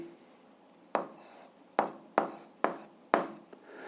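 A pen or pencil writes out an algebra expression on paper in five quick, distinct scratchy strokes, each a sharp onset fading off, close and quiet with no talking.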